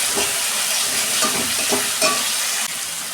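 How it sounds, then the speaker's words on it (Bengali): Masala with cumin and coriander powder frying in a pan for doi katla, a loud continuous sizzle with repeated scraping stirs of a spatula, close and without speech. "2 মিনিট আমি মশলাটা কষে নেব"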